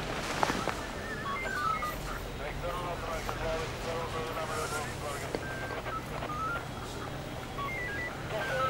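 Telephone keypad tones beep in an irregular series of short, faint dialing pips over a steady background hum with some wind.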